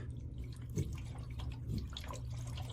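Water dripping from leaking roof flashing, a couple of soft drops about a second apart, faint under a steady low hum.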